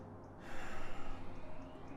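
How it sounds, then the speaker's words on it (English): Deep, slow breaths during a yoga breathing exercise, heard close and alone as a long breathy inhale-exhale with soft rhythmic pulses. "Take a couple of deep breaths now"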